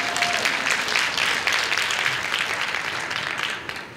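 Audience applause at a keynote talk, a brief burst of clapping that swells and then tapers off near the end.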